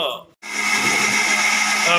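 A mixer grinder whirs loudly and steadily after a brief pause, blending onions and tomatoes, its motor grinding continuously at close range.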